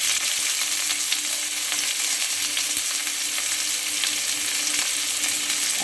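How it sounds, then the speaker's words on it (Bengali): Whole cumin and chopped onion frying in mustard oil for a mushroom dish, a steady close-up hiss and crackle of sizzling with faint stirring, with no talk. "সরষের তেল দিয়ে একে একে আমি দিয়ে দিচ্ছি গোটা জিরে, তারপরে দিচ্ছি পেঁয়াজ কুচি"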